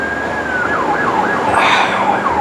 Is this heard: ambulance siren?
yes